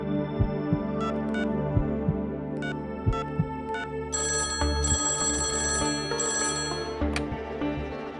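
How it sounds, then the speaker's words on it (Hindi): A telephone rings in repeated bursts over a low, throbbing musical background, the rings bright and insistent. "किसका फोन है? समीर बाबा के लिए फोन है।"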